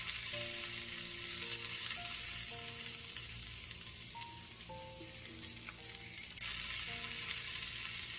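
Chopped almonds fry on a low flame until light golden. A dense, even hiss runs steadily throughout, with faint sustained musical tones in the background.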